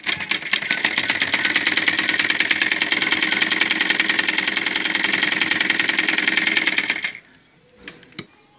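A sewing machine runs steadily and loudly at close range for about seven seconds, stitching a neckline onto an Anarkali kurti, then stops, followed by a few faint handling clicks.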